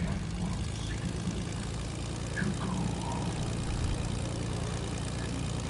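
Propeller plane flying in Fortnite, a steady droning engine hum with a low, pulsing throb, continuous and fairly close, no voices.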